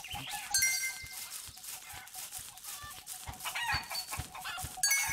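Clucking chickens in the video game Super Egg Hunt, a busy run of short squawks and clucks over steady game music, repeating throughout with no talk.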